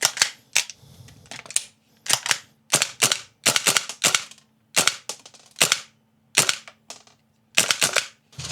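A used toy AKX blaster firing in free fire mode: sharp, loud, close snapping shots in quick irregular bursts of two or three, with brief gaps between them.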